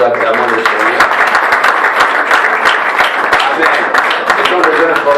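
A church congregation at an evangelism campaign in Brussels applauds with loud, dense, continuous clapping, with voices mixed in beneath.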